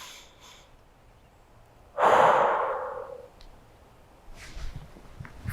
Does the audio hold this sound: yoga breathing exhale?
yes